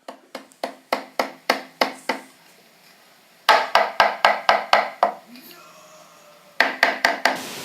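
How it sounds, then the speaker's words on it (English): Sharp hammer blows nailing two wooden boards together for a garden box, struck in quick bursts of six to eight hits with short pauses between, close and loud. "help hold the wood while the other guy's going to go ahead and nail it"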